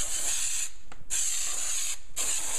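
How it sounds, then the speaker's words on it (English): Spray adhesive hissing from an aerosol can of glue, loud and close in two long continuous bursts separated by a brief pause, with no talking. "And so you're going to want to spray this liberally."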